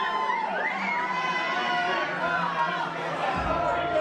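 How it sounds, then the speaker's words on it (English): A wrestling crowd at a full-capacity indoor event roars and cheers wildly in a dense, sustained wall of noise, with a commentator talking loudly over it. "The crowd has come unglued here."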